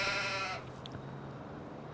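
A single sheep in the Farming Simulator 25 video game lets out a short bleat that cuts off quickly, leaving a faint ambient background afterward.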